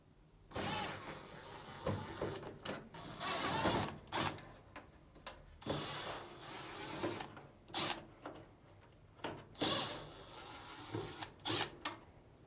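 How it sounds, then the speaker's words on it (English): Screws being driven out of a Samsung dryer panel with a power screwdriver, repeated whirring bursts of the motor separated by brief pauses and clicks, close and moderately loud with no talking. "Now, remove these 4 Phillips screws."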